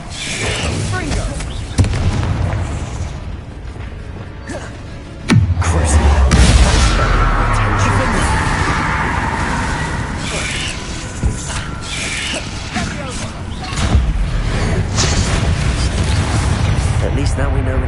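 Spell explosions in the video game Hogwarts Legacy: loud booms and bangs burst one after another in a dense, continuous battle din, with a heavy low blast midway.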